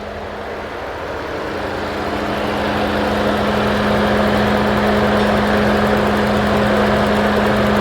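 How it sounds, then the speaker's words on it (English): An Alfa Romeo engine idles roughly with a misfire that makes it shake, giving a steady, loud mechanical hum with a constant low drone that swells slightly over the first few seconds, with no talking. "The engine is shaking, the engine is misfiring."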